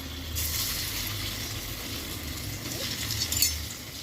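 Alu vadi slices frying in shallow oil, giving a steady close sizzle with a low bubbling rumble throughout and a brief brighter crackle near the end.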